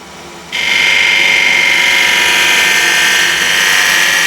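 On a wood lathe, a gouge rides the bevel against spinning wood, starting abruptly into a steady, close, high scraping hiss over the machine's constant hum.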